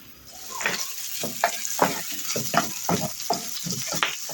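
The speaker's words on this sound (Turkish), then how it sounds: "Şimdi yağması kızınca üzerine soğanlarımızı ekliyoruz. Soğanlar böyle kavrulacak." Onions sautéing in hot oil with Döleme mushrooms nearby, a close, busy sizzle and crackle broken by repeated scraping stirs, no talking over it.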